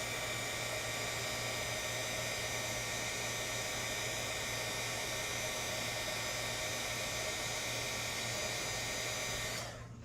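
A heat tool blows on a Christmas craft piece, giving a continuous, even, close whooshing whir that runs without a break for about ten seconds, then shuts off.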